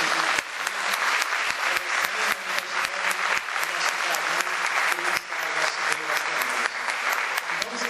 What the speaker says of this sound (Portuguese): já vamos dar um aplauso para o professor